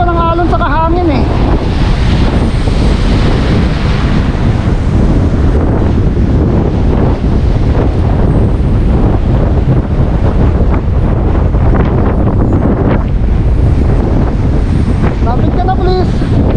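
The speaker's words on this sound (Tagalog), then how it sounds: "Tinutulungan pa ng alon sa kahangin eh" Strong wind buffets the microphone over the steady wash of sea waves, a loud constant roar with splashing surf throughout.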